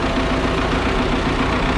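A loader's engine idles steadily nearby, a continuous low rumble holding even throughout with no voices.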